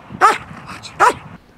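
A protection-training dog gives two sharp, loud barks about a second apart, close by, with quieter whining and movement between them.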